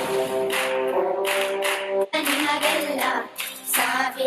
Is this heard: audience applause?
yes